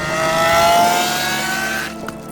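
A Lamborghini SVJ engine roars loudly up close, a sustained high-pitched rev that holds then eases off and drops away near the end.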